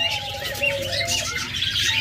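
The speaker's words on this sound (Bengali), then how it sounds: "এরপর আরেক জোড়া লাভবার্ড রয়েছে এখানে" A pair of caged lovebirds chirps and tweets in quick, overlapping bursts, close and fairly loud, with other bird calls mixed in.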